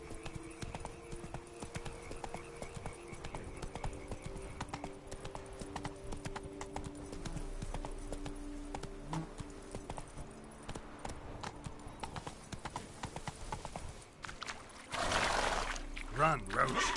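Hooves of the horse Roach galloping in The Witcher game, a rapid rhythmic clip-clop running continuously over ambient game sound, ending with a louder burst of splashing or whinnying.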